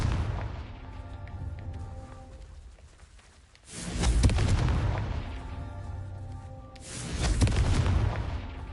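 Two heavy booming blasts from a Confringo fire spell in Hogwarts Legacy land a few seconds apart, each a loud rumbling burst that decays slowly over a low background hum.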